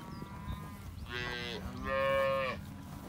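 Braford cows out on pasture lowing, with two long, loud moos one after the other, close by and clear over a low outdoor background, with no talking.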